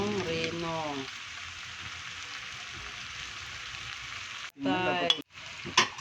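Pork igado with carrots and chayote sizzling steadily in a frying pan, a continuous close frying hiss broken near the end by a few brief scraping stirs.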